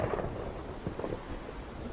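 Stormy weather in an animated series episode: a low rumble of thunder rolling under steady rain, continuous and fairly full throughout with no voices.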